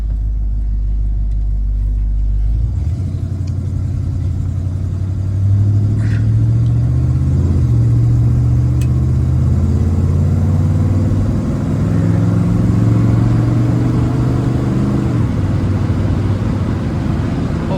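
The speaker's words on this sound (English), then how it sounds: "this Rocket V8 fires off like a rocket. There's plenty of power here." A 1965 Oldsmobile Starfire convertible with a 425 Rocket V8 and Turbo 400 transmission, driving on a cold day. A loud, deep engine rumble climbs through smooth shifts, heard close and steady throughout.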